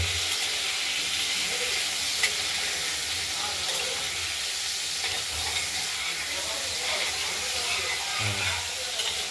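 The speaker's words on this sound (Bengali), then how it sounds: "সামান্য নুন বা লবণ আর হলুদ দিয়ে আমরা আলুটা ভেজে নেব" Potatoes fry in a pan with salt and turmeric, making a continuous loud hiss and sizzle with scraping stirs throughout, close and without talking.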